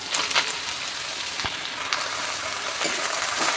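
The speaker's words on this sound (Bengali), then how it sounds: "রসুনগুলো ভাজা হয়ে গেছে, এবার পাট শাকগুলো দিয়ে দেবো।" Jute leaves tossed into a pan of fried garlic give off a steady, close sizzling hiss with a few sharper crackles, and no one speaks.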